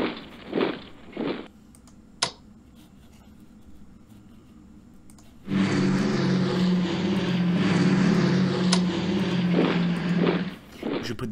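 Propeller aircraft engines of fighters and bombers in the Strategic Command war strategy game roar in as a loud, steady droning wash partway through, after a few brief quieter sounds at the start.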